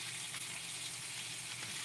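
Beef bacon sizzles steadily in a pan, a dense, even crackle close by and alone for a couple of seconds.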